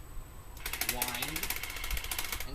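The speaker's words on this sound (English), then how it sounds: "So when you shoot the gun, it'll automatically wind," A&K M249 SAW MKII airsoft box magazine winding its feed, a rapid mechanical ratcheting whir with a rhythmic clicking pulse, close and fairly loud against a faint background.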